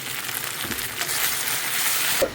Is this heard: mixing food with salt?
yes